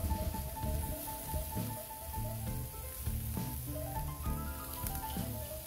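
Hanger steaks sizzle on a grill with a steady, crackling hiss and scattered pops, close and continuous with no talking.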